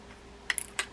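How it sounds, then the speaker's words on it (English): A screwdriver working the hold-down screw on a Shimano FX400 spinning reel, a few quick, close, crisp clicks and ticks over near silence. "we're going to remove the hold down screw here"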